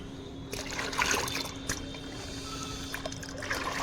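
Water sloshes and trickles as dissolved plant feed is mixed into more water for pre-winter plant care, a continuous close, soft liquid sound with small splashes.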